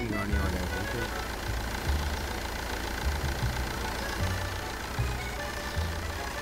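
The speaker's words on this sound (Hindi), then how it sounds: "ओहो सुन, गाड़ी आ जाएगी।" A car engine arriving in Supermarket Simulator, heard as a steady, loud mid-pitched engine drone with a regular low throb pulsing about once a second.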